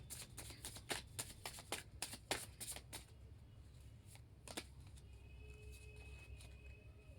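A deck of playing cards shuffled by hand, a quick run of crisp riffling flutters for about three seconds, then a single snap and a quieter stretch of soft handling.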